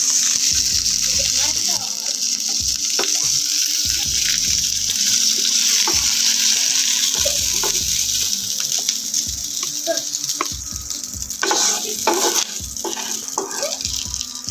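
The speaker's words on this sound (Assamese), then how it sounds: "সেই একেদৰে বাকীখিনি মাছো মই ফ্ৰাই কৰি লওঁ" Spiced fish fries in a pan with a continuous close sizzle, overlaid by repeated rhythmic knocks and clatter of cookware and occasional sharper scrapes.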